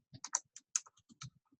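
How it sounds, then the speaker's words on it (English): Light keystrokes on a computer keyboard, about a dozen crisp clicks in an uneven typing rhythm, close and quiet with no talk. "we're going to type what you see on step 5"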